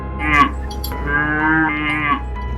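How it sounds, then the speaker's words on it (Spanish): An ox lowing close by, a few drawn-out, loud moos in quick succession with tonal rises and falls. "el mugido del buey"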